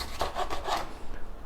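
A knife cuts through a raw potato on a board to make skinny fries, giving a few close, rhythmic rasping slices in quick succession, then quieting, with no talking.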